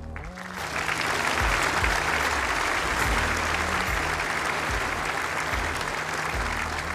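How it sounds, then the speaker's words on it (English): Dense, sustained audience applause fills a hall at the final of the World Indoor Bowls Championship. The clapping swells up quickly and stays loud and even throughout, with a low tonal hum running underneath. "Continue that applause, ladies and gents"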